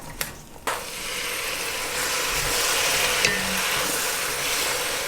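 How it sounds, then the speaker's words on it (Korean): Mushrooms and their firm stems stir-fry in a pan for a vegetarian jjamppong, a steady close sizzle after a couple of sharp clatters at the start. "버섯이랑 같이 볶을게요"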